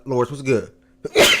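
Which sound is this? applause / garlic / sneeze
sneeze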